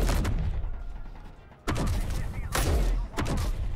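Turret gunfire in a space mining video game, a few heavy thudding bursts of shots, loud and close, with a quieter stretch between them.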